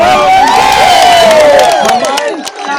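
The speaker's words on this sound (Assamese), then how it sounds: "মাজুলীৰ MLA ৰ কাৰণেও এটা হাত চাপৰি বজাই দিয়ক" A crowd at a public event marking the Majuli bridge in Assam applauds and cheers loudly and steadily, with scattered shouts and a sustained whistle-like tone, easing off slightly near the end.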